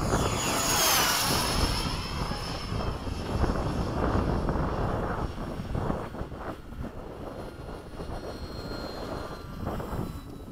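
A MiG-21 jet dives through a high-speed Split S at Bayside, a loud continuous engine roar with a sweeping tone at the start that holds steady, then eases slightly toward the end.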